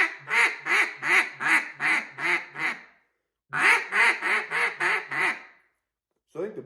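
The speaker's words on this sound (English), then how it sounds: "We're just going to do some quacks." Duck call blown by a beginner after two weeks of practice, giving two runs of about seven evenly spaced quacks each, loud and close, separated by a pause, with the start of a third series at the end.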